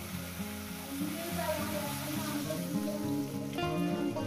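Steady sizzling of a mustard and poppy seed spice paste frying in a hot pan for a tilapia and brinjal curry, a constant crackling hiss with faint background voices and a brief clatter near the end.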